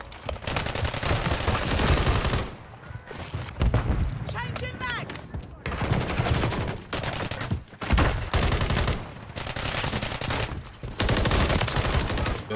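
Shotgun blasts in a video game fire in loud repeated bursts, separated by short gaps, over continuous game noise.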